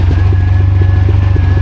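A motorcycle rides off-road in first gear on a hill road toward Darjeeling, its engine a loud, low, steady pulsing thrum close by, with no voices.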